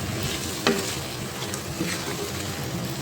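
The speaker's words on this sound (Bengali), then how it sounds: "আলুগুলোকে দিয়ে এখন মশলাগুলোর সঙ্গে ভালো করে কিছু সময় কষিয়ে নিতে" Thinly sliced potatoes stir-fry with spices in a hot pan, a close, steady sizzle broken by occasional scraping strokes of a spatula against the pan.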